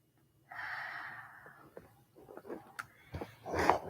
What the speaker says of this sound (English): gonna do 3 mindful breaths, and join me